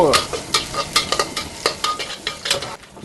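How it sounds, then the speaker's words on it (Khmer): Tom yum noodles stir-fried with garlic in oil in a pan, giving a steady sizzle broken by repeated scraping strokes of the spatula, close and fairly loud with no talking. "យើងមកឆាមីតុងយ៉ាំ"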